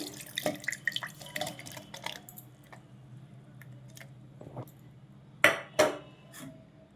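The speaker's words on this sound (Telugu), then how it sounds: "మిక్సీ జార్ తీసుకుని నానబెట్టుకున్న ఈ డ్రై ఫ్రూట్స్ని వాటర్తో సహా వేసుకోవాలండి" Soaked dry fruits and their soaking water go into a mixer jar, with soft splashes and drips, light clinks against the jar, and two sharper knocks near the end, all close and fairly quiet with no talk.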